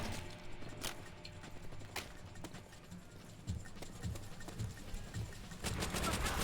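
Gunfire from a World War II shooter game: scattered shots and bursts of automatic fire crackle through a busy mix of game noise, some louder cracks standing out over a steady background din.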